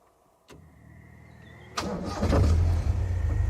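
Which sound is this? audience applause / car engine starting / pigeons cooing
car engine starting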